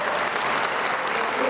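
Sustained applause from a legislative assembly in the Senate chamber, a dense, steady wash of clapping from many hands filling the room without pause.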